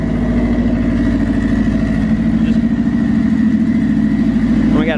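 A hot rod VW Beetle engine making 289 horsepower, running loud and close with a steady rough throb and a deep pulsing rumble, a voice faintly heard near the end.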